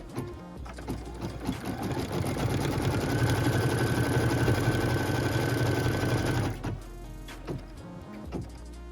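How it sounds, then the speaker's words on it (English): A sewing machine stitches a quilt block seam in a steady, loud mechanical whir lasting several seconds, then stops, followed by a few quieter clicks and handling sounds. "then I can return it to the machine. We're just going to stitch this line really quick"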